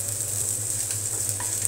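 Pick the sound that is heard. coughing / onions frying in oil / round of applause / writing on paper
onions frying in oil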